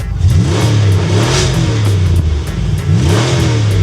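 A 1984 Ford Bronco II XLT with a high-performance 302 V8 taken from a Mustang GT revs loudly and close by, its engine note climbing and falling in repeated surges.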